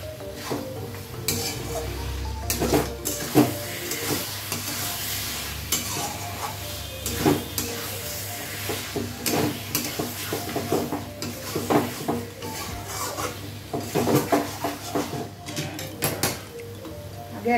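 Mutton sizzling and frying in ghee for biryani, stirred with a spoon that scrapes and clinks against the pot in steady bursts, close and continuous throughout.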